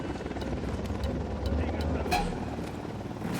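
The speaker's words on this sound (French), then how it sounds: "Hélico de l'Unidad en approche." An enemy Unidad helicopter approaching in Ghost Recon, a low continuous rotor rumble held steady beneath game effects and occasional sharp clicks, with people talking over it.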